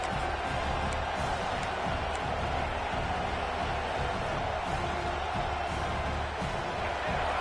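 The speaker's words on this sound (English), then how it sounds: "Listen to this crowd just shaking the girders of this place, trying to help their defense." A large crowd roars steadily in a big college football stadium, a dense, sustained wash of cheering and noise with no letup.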